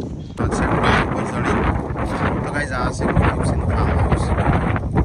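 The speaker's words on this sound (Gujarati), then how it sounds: "પવન બી જોરદાર કારણ કે વાવાઝોડું આપવાનું છે" Strong wind gusting ahead of a storm around a farmhouse in the city, a loud, steady roar buffeting the microphone for the whole stretch with no break.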